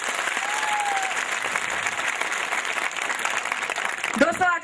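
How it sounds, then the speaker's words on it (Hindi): Seminar audience claps in sustained, dense applause to welcome newcomers, a steady roar of many hands filling the room before a voice cuts in at the end. "क्या मेरे पुराने साथी एक बार जबरदस्त तालियों से स्वागत कर"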